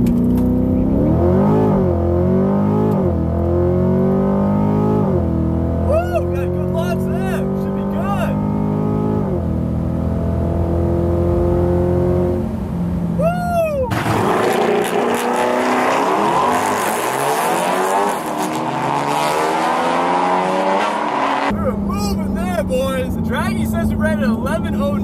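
A C8 Corvette accelerates hard in a drag race against a Ford Focus ST, its engine rising in pitch through several gear shifts, loud and close, with wind roar joining later and voices talking over it.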